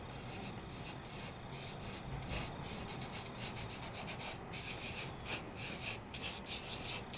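A fingertip rubs Nuvo glitter across a craft surface, producing a close, continuous soft scratchy friction with rhythmic strokes that quicken toward the end, alone without talk.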